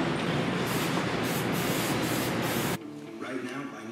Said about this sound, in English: Rattle can edge primer here.